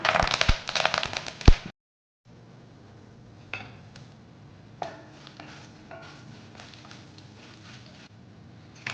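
Mustard seeds, lentils, curry leaves and slit dried chillies tempered in hot oil for tomato rice: a bright, loud crackling sizzle for a second or two, then a brief cut and softer scattered popping.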